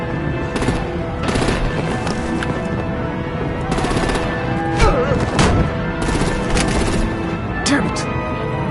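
Heavy video-game combat with rapid machine-gun bursts and sharp gunshots cracking repeatedly over a rumbling backdrop, loud and close, with an occasional deeper boom and voices talking over the fighting.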